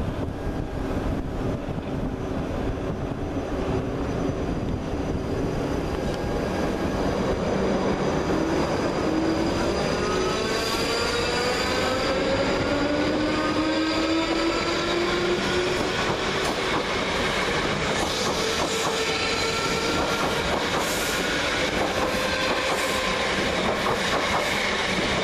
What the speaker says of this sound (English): Going in the opposite direction is 458532 and 458527 with the 1441 Southwestern Railway service from Reading to London Waterloo.